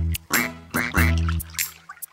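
Cartoon duck quacks in a German children's song about little ducklings, several loud close quacks in quick succession with a short pause between them.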